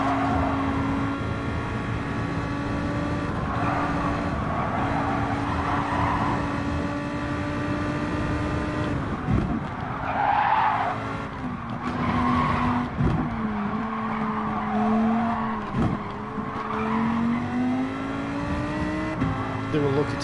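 GT3 and GT4 race cars in Gran Turismo 7 roar close together, then tires squeal and skid in several sharp bursts as one runs into the back of another, with engine pitch dropping and rising again under a voice talking.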